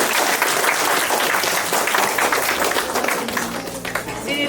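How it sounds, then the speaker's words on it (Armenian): An audience at a school event gives teacher Mamyan a loud, sustained round of applause, dense clapping throughout that eases slightly toward the end, with some voices mixed in. "Ծափահարենք ընկեր Մամյան"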